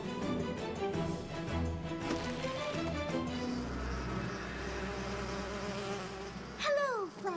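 Cartoon bees in a My Little Pony episode hum in a steady sustained buzz under music, with a rising whooshing effect near the end.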